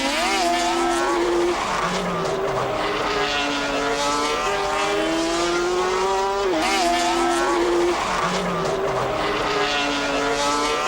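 Sidecar racing outfits at Anderstorp, including a Swiss crew, roar past with high, revving engines rising and falling in pitch, with loud passes recurring close by.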